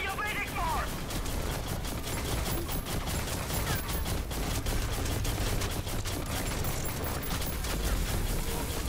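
Rapid video game gunfire in a Spacelords PvP match, a dense continuous barrage of shots and blasts that fills the clip, heavily mixed with explosions, effects and game voices.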